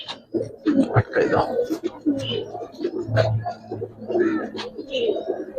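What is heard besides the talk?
Giribaz pigeon cooing while being held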